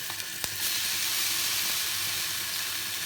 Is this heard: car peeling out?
no